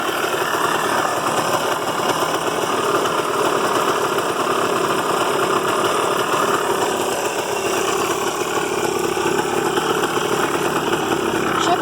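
2003 Yamaha Blaster ATV engine idling nearby, a steady, loud, rapid buzzing putter that holds an even pace throughout with no talking.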